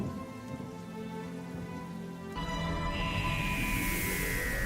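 Rain falls steadily in an outdoor scene, a soft hiss that grows louder and fuller partway through, with faint music or tones underneath.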